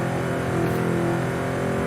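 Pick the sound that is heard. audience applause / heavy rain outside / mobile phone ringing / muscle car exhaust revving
muscle car exhaust revving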